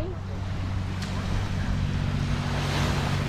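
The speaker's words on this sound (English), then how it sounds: "Be careful with your knee with the waves, Jake." Steady roar of ocean surf and wind on a beach in Cozumel, continuous and fairly loud with low rumbling wash throughout.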